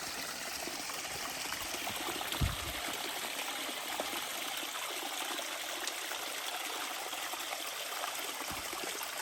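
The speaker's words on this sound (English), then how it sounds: "Best flowing water I've seen on this whole trip." A hillside stream beside an Appalachian Trail path flows with a steady, close, even trickling wash that continues unbroken throughout, with a couple of faint low thumps and no voices.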